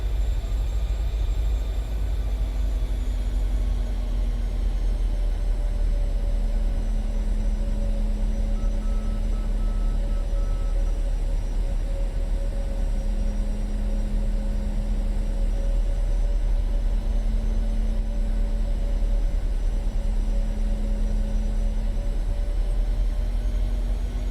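Steady low roar of a PMDG Boeing 737 airliner landing in Atlanta in a flight simulator, heard from the cabin, with a faint whining engine tone rising and falling over constant rumble.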